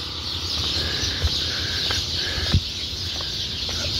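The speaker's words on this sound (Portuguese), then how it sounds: "Olha o barulho dos passarinhos." Small birds chirp in city trees at dusk as they settle in to roost. The chorus is faint and distant, made of short repeated chirps over a constant background hiss.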